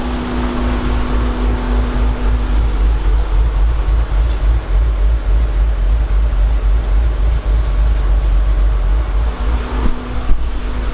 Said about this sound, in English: She got a little chop to her.